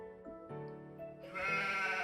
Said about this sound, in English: Sheep eat grass and plants.